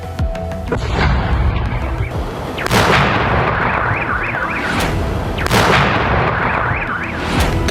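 Rescuers detonate a cluster munition element in a field in a controlled blast: two loud, sharp bangs a few seconds apart, each trailing into a rumble, over a steady noisy background with a wavering siren-like tone, no speech.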